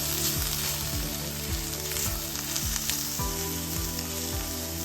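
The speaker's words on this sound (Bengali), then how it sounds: "এখানে রান্না করতেছি আমার গার্ডেনের লাই পাতা শাক ভাজি করতেছি।" Garden lai leaf greens fry in a pan with a loud, dense, continuous sizzle that holds steady throughout, with no talking.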